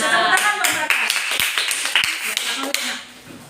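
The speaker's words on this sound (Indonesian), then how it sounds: "Tepuk tangan buat mereka." Students in a seventh-grade classroom clap together, a burst of quick overlapping handclaps that thins into scattered taps over a few seconds, with voices mixed in.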